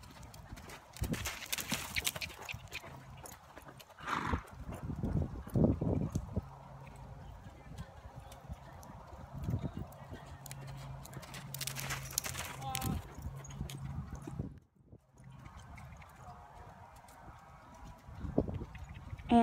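A horse canters on a lunge line, its hoofbeats coming as rhythmic bursts of clip-clop that fade and return as it circles, with a faint snort or whinny now and then.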